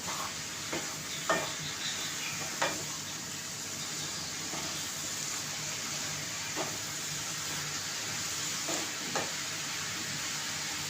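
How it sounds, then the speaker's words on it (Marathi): Spinach for aloo palak is stirred in a pan over a high flame, making a soft steady hiss and simmer broken every second or two by a spatula scrape or tap, with no talking. "आपल्याला पालक चांगला हलवून घ्यायचा आहे खाडीवर करून गॅस मोठा ठेवायचा आहे"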